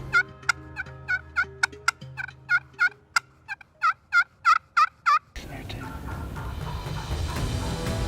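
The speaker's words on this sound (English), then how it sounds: "The hunter will sit and repeatedly make calling sounds to draw the turkey in." A wild turkey gobbles in a rapid string of loud, rattling bursts answering a hunter's call outdoors, then a broad rushing noise takes over.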